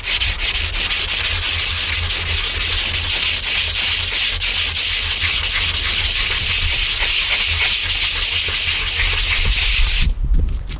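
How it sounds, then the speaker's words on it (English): Sandpaper wrapped on two wooden dowels is rubbed steadily back and forth across the wood of a Harley Benton guitar body being shaped, a close, continuous rasping scrape that stops abruptly near the end. "2 pieces of dowel, 2 pieces of sandpaper, and now I can just move it like this."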